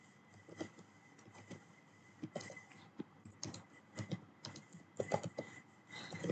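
Typing on a computer keyboard while entering a C program, a quiet, irregular run of light key clicks that speeds up into denser bursts toward the end.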